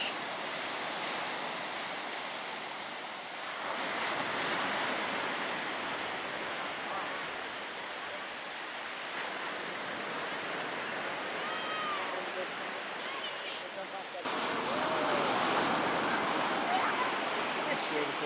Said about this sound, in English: It's a sand beach.